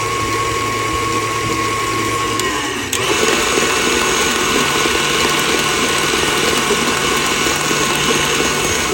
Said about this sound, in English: You want to beat this mix. You don't want no cream cheese lumps in it.